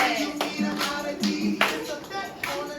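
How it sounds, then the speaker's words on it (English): A group claps together in a fitness-style class for teenagers, several sharp bursts of hand claps landing roughly every half second to second, moderately close, with faint background voices. "See those claps, Kate?"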